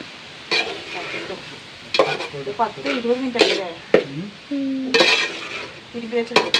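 Marinated beef frying in a pan, with a spoon scraping and clattering against the metal in irregular strokes over a continuous sizzle. A voice talks intermittently in between.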